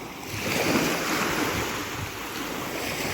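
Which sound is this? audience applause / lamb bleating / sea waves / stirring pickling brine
sea waves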